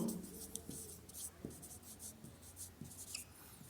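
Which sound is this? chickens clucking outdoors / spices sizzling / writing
writing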